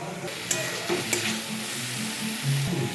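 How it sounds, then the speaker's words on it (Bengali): Tomato slices sautéed with spices in a pan for a paneer dish, heard as a low steady sizzle with occasional spatula clicks and scrapes, close and fairly quiet, no talking. "এটা যতক্ষণ না নরম হবে টমেটোগুলো, ততক্ষণ আমি কষাতে থাকবো"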